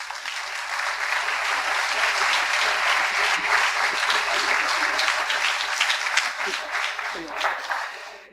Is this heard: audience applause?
yes